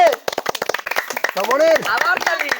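An audience claps for the winner of a water-transfer party game, a patter of handclaps mixed under a lively announcer's voice and crowd chatter.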